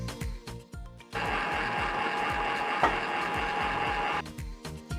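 A Panasonic refrigerator makes operating noises: soft repeated ticks lead into a loud, steady mechanical whir with a buzzing hum, which stops after about three seconds and leaves the ticking again.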